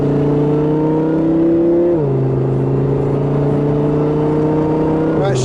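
An Audi R8, heard from inside while riding along, pulls hard with a steady droning engine note that drops sharply at two quick gear shifts before climbing again.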